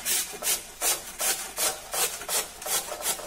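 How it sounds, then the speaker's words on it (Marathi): A raw potato is rubbed against a kitchen grater in about eight steady, even strokes, each a scratchy rasp close to the microphone, with no talking. "सर्वप्रथम किसणीवर बटाटा किसून घेऊया।"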